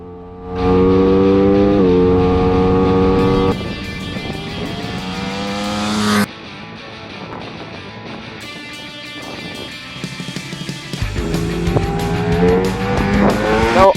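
A 2023 Ducati Streetfighter V4S rides on a race track, its engine screaming through rising revs, sharp gear changes and drops in pitch as it accelerates and slows, loud and close throughout.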